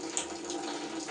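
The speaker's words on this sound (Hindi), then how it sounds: "साथ में मेरा गर्म पानी भर रहा है" Hot water runs from a tap to fill a container for bathing, a close, steady hissing stream with a faint ringing tone, continuous and unbroken over the short span.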